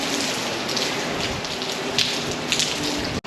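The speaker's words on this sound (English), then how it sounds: "you see the raindrops here." Heavy rain from Hurricane Ian pours steadily around an outdoor staircase, a dense hiss with a few sharper drip and splash hits near the end, close and loud with no voices.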